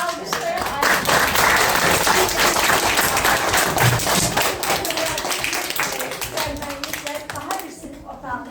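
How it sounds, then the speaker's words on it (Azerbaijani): An audience at a school ceremony opening a classroom named after a fallen soldier claps warmly for a guest, a major, with dense applause that holds loud for several seconds and then thins out. Voices murmur underneath. "Alqışlayın Ayda xanım."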